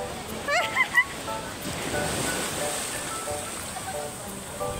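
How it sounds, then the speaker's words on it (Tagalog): Strong surf breaks on a white sand beach at Harip, Surigao del Sur, as a close, continuous wash of waves with buffeting wind noise and a few brief voices early on. "Sa sobrang lakas nga ng alon, ay naku, titilapon ka talaga."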